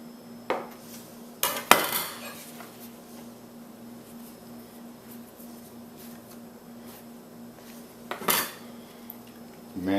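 Hand-made pizza dough for two 12-inch pizzas is cut down the middle, giving a few sharp, close knocks and scrapes of the cutter against the work surface amid a quiet room with a faint steady hum.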